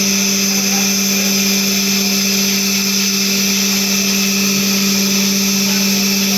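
A loud, steady mechanical hum and whine from an automatic milking parlour machine running its washing cycle, constant and droning with no pauses throughout.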